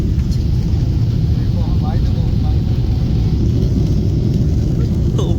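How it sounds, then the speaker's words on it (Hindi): The engines of an airliner roar on the runway before takeoff, a dense low rumble throughout. Passengers talk over it, and faint chatter rises above the engine drone. "इंजन का थंडर की आवाज़ आ रही है।"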